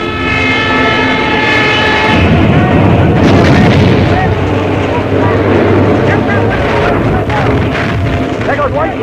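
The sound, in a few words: ship gunfire at attacking planes, US Navy LST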